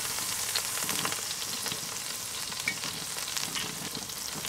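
Tomato paste roasting in olive oil in a Dutch oven, the pan that just browned a leg of lamb, gives a steady, close sizzling hiss with light crackles throughout and no talking.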